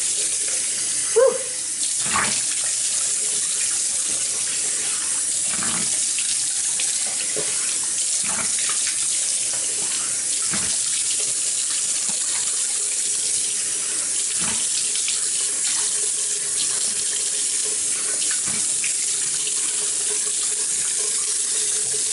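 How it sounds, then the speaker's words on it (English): Tap water pouring steadily into a bathroom sink during face rinsing, a continuous broadband hiss lasting over twenty seconds with occasional splashes and clatters, close and fairly loud. "now that I've rinsed it all off, I turn the water temperature down from hot to cold"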